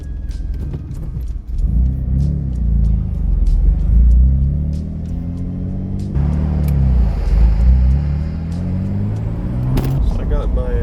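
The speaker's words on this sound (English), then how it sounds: "whether or not these pre-turbo intake pipes will actually make a difference to the turbo noise" A turbocharged 3000GT engine with pre-turbo intake pipes rumbles steadily while driving, rising as it accelerates, with a faint high turbo whistle layered over the low drone.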